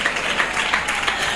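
Congregation clapping in a Tamil Christian church meeting, a brief, steady burst of many hands applauding together, close and fairly loud.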